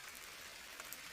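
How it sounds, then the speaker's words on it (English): Rain falls on umbrellas as a soft, steady patter with a few louder drops, faint and uninterrupted. "The rain falls on the umbrellas."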